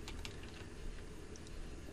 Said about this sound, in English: I'm just going to hold down Control and press A on my keyboard